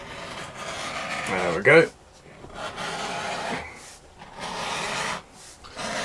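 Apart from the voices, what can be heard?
tool shaving a sliver off a leather strap edge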